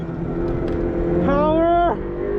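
A Subaru BRZ on a race track, heard from inside the car: the engine's steady drone climbs sharply into a rising rev toward the red line, holds briefly, then drops off abruptly.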